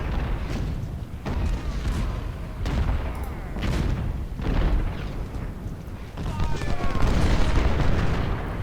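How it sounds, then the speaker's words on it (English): Artillery shells in the Ultimate General: Civil War battle of Chickamauga pound repeatedly, a run of heavy booms and rumbling blasts layered over continuous battlefield din. "And all the while we are shelling them with artillery."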